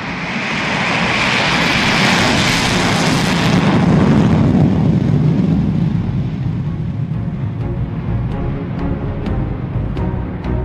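A B-1B Lancer supersonic bomber thunders by with a loud, steady jet-engine roar that swells and then eases slightly as the aircraft passes, with no voices over it.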